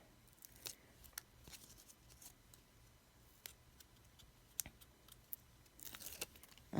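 Scissors snip off excess tape in a few sharp, separate cuts spread over several seconds, close by and fairly quiet, with a slightly louder rustle and snip toward the end.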